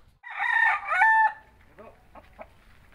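A thin chicken on a farm gives a loud, drawn-out crowing squawk that breaks off, then trails into a few soft, scattered clucks, with faint background noise.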